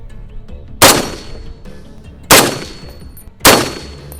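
Three loud, sharp shots from a Springfield M1A .308 rifle firing Federal 150 grain ammunition, evenly spaced about a second and a half apart, each cracking sharply and then ringing off with a short decay.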